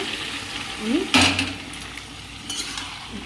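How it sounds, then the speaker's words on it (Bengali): Spoon scraping and stirring boiled mutton with spices in a cooking pan, a few clinks and one louder scrape at the start over a soft low sizzle, with no one talking. "আমি নাড়াচাড়া করবো এখন"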